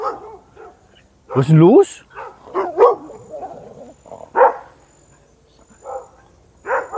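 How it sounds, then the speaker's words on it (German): Several dogs bark in bursts at a home in Paraguay in the morning, loud, close barks with yips and whimpers, interleaved with someone talking to them. "Morgens um 9 Uhr machen meine Hunde mal wieder Alarm."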